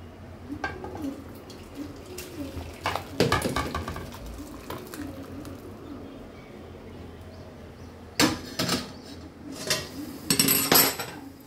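Sour mango chutney (aamer tok) is tipped from a pot into a serving dish, with bursts of spoon scraping and ringing clinks against metal and crockery, separated by quieter pauses, close by.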